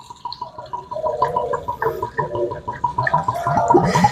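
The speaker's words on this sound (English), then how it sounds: "we're just going to fill up this crock pot" Wine glugs and gurgles as it pours from a large bottle into a crock pot for Glühwein, a close, bubbling stream with rapid rhythmic pulses that grows fuller toward the end.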